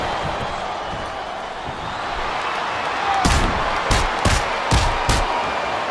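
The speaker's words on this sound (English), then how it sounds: "I love hearing a crowd come alive, even if I disagree with what they're saying." Arena crowd noise from the WWE SmackDown vs Raw 2008 wrestling video game during a women's submission match, a steady broad roar that swells midway, punctuated by several sharp slams or impacts near the end.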